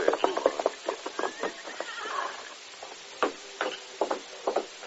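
Horse hooves clip-clop in a steady rhythm with a neigh partway through, a close, clear effect in a radio western drama, under no spoken words.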